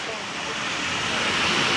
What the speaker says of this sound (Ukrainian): вітер крутить з різних сторон, тому дощ постійно йде то оттуда, то оттуда.